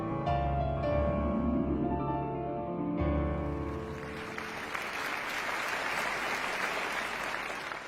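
Applause in a cartoon episode follows a stretch of music, a dense, steady wash of many clapping hands filling the second half at moderate loudness.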